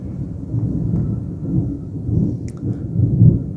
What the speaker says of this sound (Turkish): Dışarıda çok felaket gök gürültüsü var.